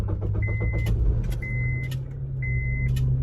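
A car engine hums steadily while a tonal whine rises and holds three times, mixed with clicks, like the air conditioning cycling on over the idle.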